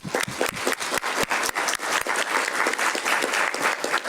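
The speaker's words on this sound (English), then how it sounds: "another big round of applause to all of what was presented to the community" A round of applause at a city council meeting, brisk and fairly close, with uneven clapping from a modest group that holds steady for a few seconds.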